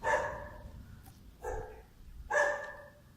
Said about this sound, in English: start to notice that quite a lot of these buildings have dogs inside them